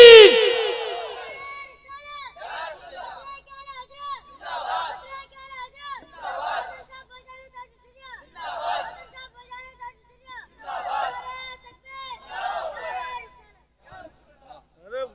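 A large crowd at a religious speech gathering roars a slogan response in repeated loud chanted bursts, about seven waves, each rising and fading with short gaps between them.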